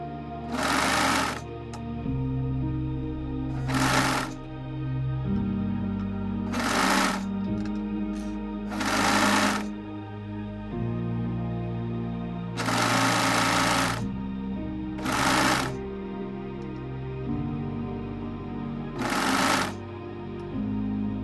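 Sewing machine stitching a child's slouchy t-shirt, with short loud bursts of rapid stitching separated by pauses, repeated about eight times over a steady background of soft music.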